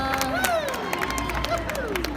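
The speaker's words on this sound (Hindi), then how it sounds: "ताली बजाइए सभी।" Crowd at college fun games cheering and shouting, with scattered clapping and excited voices across the whole stretch, close and lively.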